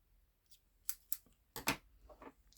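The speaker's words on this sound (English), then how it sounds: "So I'm going to cut off that little stem." Scissors snip off a small paper stem from a punched cardstock piece, making several crisp close cuts in quick irregular succession, quiet and without talk.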